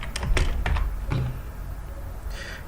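Typing on a computer keyboard: a quick burst of several close key clicks early on, then a pause and a few more taps, fairly soft.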